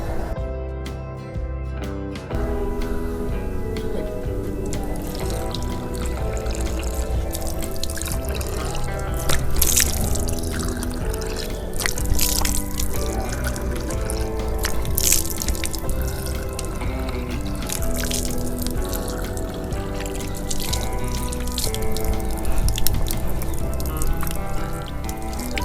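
Holy well water running from a row of taps at a Marian grotto shrine, splashing and dripping steadily as someone washes their face, a continuous close wash of water over a rich, busy background.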